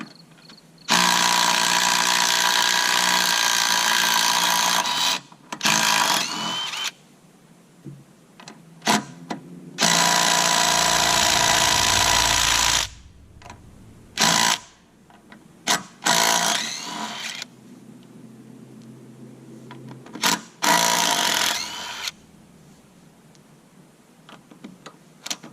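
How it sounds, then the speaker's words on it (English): Impact gun loosening lug nuts on an old hay wagon: several loud sustained whirring-rattling bursts of a few seconds each, separated by pauses and clanks, no talking. "I'm thinking I should be able to just use my impact gun here and get them all off."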